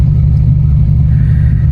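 A car engine idles and revs softly through a Jack Spania high-flow adjustable cat exhaust, a steady low rumbling drone with a mild, manageable tone and no talking.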